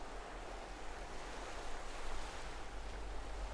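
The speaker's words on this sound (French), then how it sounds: "La brise effleure ton visage et portant avec elle les murmures du vent et des vagues" Ocean waves wash in under a soft sea breeze, a faint, even rush of surf and wind noise that swells slightly midway, with no voices.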